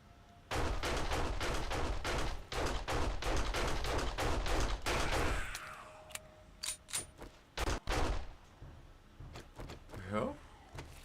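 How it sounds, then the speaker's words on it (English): Rapid automatic gunfire in the survival video game 7 Days to Die, a loud burst of repeated shots lasting several seconds, followed by scattered single shots and clatter with voices talking. "What the hell were you shooting?"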